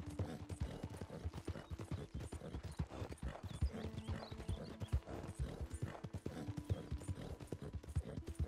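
Horse hooves in the Red Dead Redemption video game, a rapid, steady clip-clop of galloping with a neigh, mixed with faint mechanical rattling, moderately quiet throughout.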